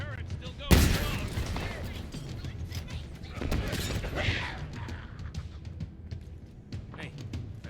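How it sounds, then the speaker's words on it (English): Heavy turret gunfire in the Halo Infinite shooter, a dense continuous rattle with a sharp loud burst near the start, mixed with battle noise and voices talking over it. "That turret's still going strong."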